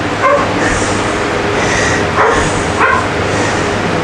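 A dog barks three times in loud, evenly spaced yips, close by in a home workshop, with a steady background hum running underneath.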